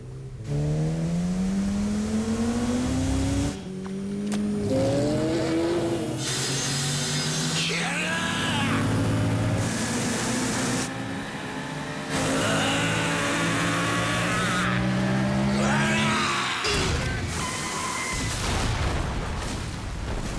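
A motorbike engine revving in the video game Yakuza 0, heard loud and up close in a tunnel, with repeated rising and falling rev sweeps and bursts throughout, no voices.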